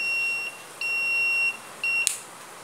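A 555 timer buzzer circuit gives three piercing electronic beeps of uneven length, close and clear, ending in a sharp click, with no one talking.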